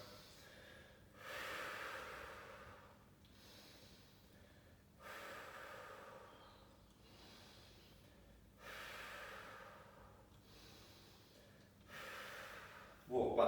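Deep, slow breathing during a lower-body conditioning workout: about six long airy breaths that rise and fall in a steady rhythm, close but quiet.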